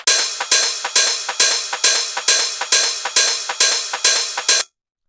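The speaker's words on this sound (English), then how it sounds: "And then we just have these last little 3 percussion layers down here" Extra percussion layers in a hard rave techno track: a steady run of about eleven sharp, bright, close hits, evenly spaced with a short decay each, playing alone before cutting to silence near the end.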